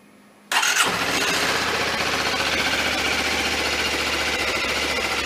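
A Suzuki V-Strom 250 motorcycle engine starts after a brief quiet moment, then idles steadily to warm the oil, a close, loud, even mechanical drone with no talking.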